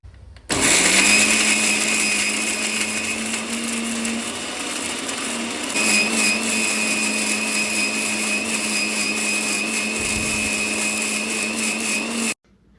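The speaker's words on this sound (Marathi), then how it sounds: "मिक्सरच्या भांड्यामध्ये सगळं वाटण घातल्यानंतर आपल्याला थोडंसं पाणी घालून हे वाटण बारीक वाटून घ्यायचं आहे" A mixer grinder whirs loudly and steadily, grinding spice paste with a little water, with a constant motor hum from start to finish that cuts off abruptly at the end; no talk.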